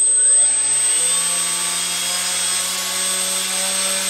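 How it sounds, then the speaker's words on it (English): An electric motor driven by an ESC spools up with a rising whine that settles into a steady, loud tonal hum with a high-pitched electronic squeal above it. "So I spool up my motor."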